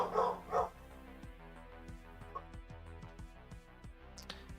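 A puppy barks twice in quick succession at the start, fairly close, followed by a quieter stretch of faint thumps and background noise.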